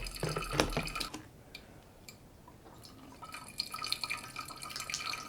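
Water pours from a Willsence gooseneck kettle in a thin trickling stream, splashing close at the start, fading to a soft drip and then returning, faint throughout.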